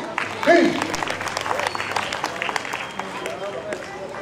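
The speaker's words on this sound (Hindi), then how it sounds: "सर के लिए बहुत सारी तालियां।" An audience claps for a speaker at a gathering, the applause rising sharply at first and then holding at a moderate level while voices carry over it.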